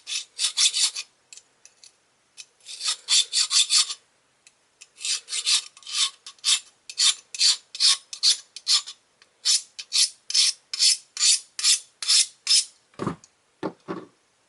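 A serrated, sawtooth-edged knife drawn repeatedly through an Accu Sharp 4-in-1 knife and tool sharpener, giving close, loud rasping strokes in quick steady bursts with short pauses, ending in a few lower scraping pulls.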